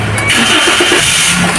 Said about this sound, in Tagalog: Siyempre paandarin na natin. Alright, papandar na tayo, ano.